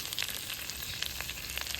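Tomatoes drop into a pan of fried potato and taro, setting off a brief, steady sizzle with faint stirring, close and without speech.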